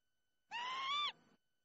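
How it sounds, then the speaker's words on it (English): Single plover call, one clear, slightly rising whistled note lasting about half a second, fairly faint, in otherwise quiet surroundings with no talking. "A plover it is."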